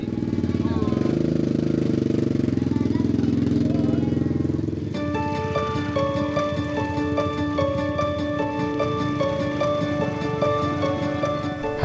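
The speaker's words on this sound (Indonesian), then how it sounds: "sepeda motor melaju menuruni jalur curam" A motorcycle rides down a steep trail on Mount Talobanua in South Sulawesi. Its engine drones steadily for about five seconds before music takes over, with the engine still faintly underneath.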